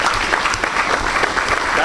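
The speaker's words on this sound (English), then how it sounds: "we should give him a round of applause" At a Minnesota Young Americans for Liberty convention, the audience breaks into loud, close applause, a thick continuous patter of clapping filling the whole short stretch.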